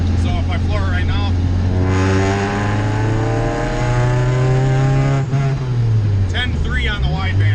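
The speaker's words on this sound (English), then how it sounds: "So if I floor it right now" Car fitted with a Jackson Racing supercharger, running a rich air-fuel mixture, pulling at full throttle: a loud, close engine note rising steadily in pitch, dipping briefly, then climbing again, with someone talking over it.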